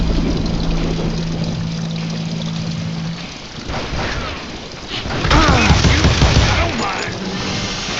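Gunfire in the western shooter Call of Juarez: Gunslinger during a duel with Johnny Ringo, with a loud burst of booming shots and echoing reports in the second half, mixed with game music and spoken dialogue.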